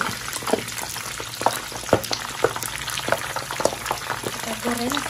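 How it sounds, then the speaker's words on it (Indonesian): Eggplant frying in hot oil, a steady crackling sizzle with sharp pops and the occasional stir, heard up close with a voice speaking over parts of it. "Aku goreng terong karena takut berubah warna jadi hitam ya pemirsa."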